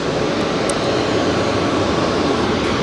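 Boeing 737 Max 8 jet departing Phoenix Sky Harbor Airport for Denver, a steady broad engine roar heard from a distance, loud and unbroken with no talking.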